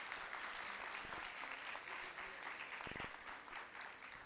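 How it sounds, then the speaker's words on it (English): An audience at a school debate knockout gives both girls' teams sustained applause, a dense, even wash of clapping throughout. "A round of applause for both teams."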